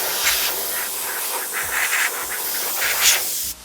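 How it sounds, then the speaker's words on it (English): Compressed air or aerosol sprayed to dust off a built Revell Gangut early-1900s Russian warship model kit: steady loud hissing in several bursts over a few seconds, cutting off abruptly at the end. "Give it a bit of a spray."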